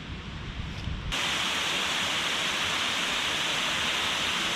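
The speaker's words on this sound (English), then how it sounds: "The water's flowing through there at quite the rate" A fast-flowing stream rushes past in a steady broadband wash, starting quieter for about a second before jumping to a louder, constant hiss and roar that continues without a break to the end.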